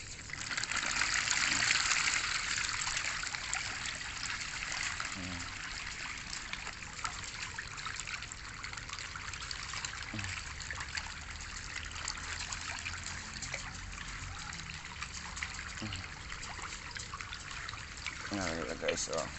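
Water trickles and gushes steadily as a fish tank is drained, a continuous liquid stream running for the whole stretch with little change in level.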